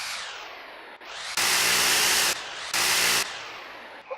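An improvised multi-tool being run as a drill gives two loud, steady bursts of harsh broadband whirring noise, each about a second long, separated by a short pause, with quieter hiss before and after.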